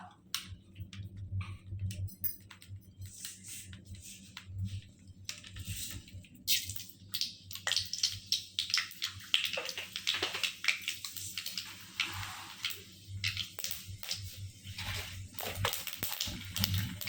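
Mustard seeds hit hot oil for a mango-ginger pickle and set off a dense, irregular spray of small pops and sizzling crackles, fairly quiet and building over several seconds, with no voices.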